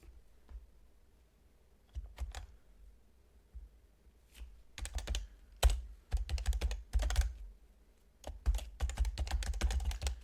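Python code being typed on a computer keyboard: quiet, irregular bursts of rapid key clicks separated by short pauses, close and alone.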